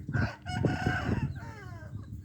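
Chickens cluck and a rooster crows inside a coop, loud and close, with a run of overlapping clucks followed by a drawn-out crow.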